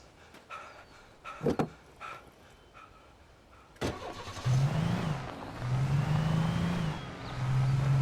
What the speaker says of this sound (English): This driving is weird. The car just spun out itself.